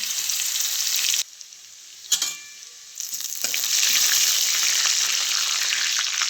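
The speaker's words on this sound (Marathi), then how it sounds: "आता तेलामध्ये पहिल्यांदा मोहरी, जिरे, लसूण," Mustard seeds, cumin and garlic frying in hot oil give a loud, steady crackling sizzle, broken by a brief quiet gap and a clatter, then sizzling strongly again.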